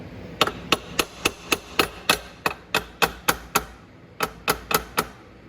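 Sharp, evenly spaced taps fixing a part back into position on an E-Racer 1000W electric ATV during a chain change, about sixteen close, crisp knocks in a steady rhythm with a short pause before the final few.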